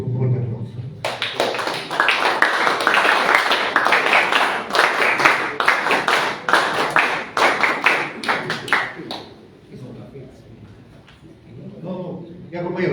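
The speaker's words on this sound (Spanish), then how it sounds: "un fuerte aplauso" Strong, dense clapping from the audience at a union meeting swells and holds for several seconds, then thins out as voices take over near the end.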